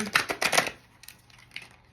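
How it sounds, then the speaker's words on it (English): Oracle cards being shuffled by hand, a quick burst of crisp riffling and slapping taps for about half a second, then a few scattered soft card flicks, close and fairly quiet with no talking. "I'm going to shuffle the cards"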